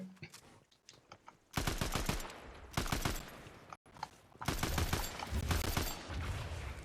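Rapid bursts of gunfire in Fortnite, crackling in fast volleys with brief pauses, loud and dense throughout.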